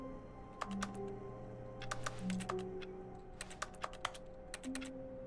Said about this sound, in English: I only have typing sounds when I do that.